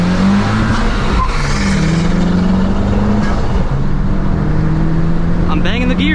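A tuned 2020 Honda Civic Si roars loudly through hard gear changes as it races, the engine note rising and dropping steadily, with people talking over it.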